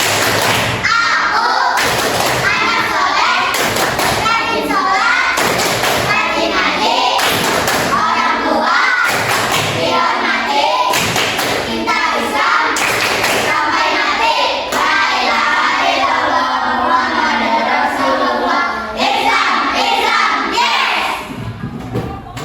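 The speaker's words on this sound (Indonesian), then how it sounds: "Tepuk anak soleh." Schoolchildren in a classroom perform the Tepuk Anak Soleh clap chant, loud rhythmic group claps and thumps mixed with their chanting voices, continuous and close throughout.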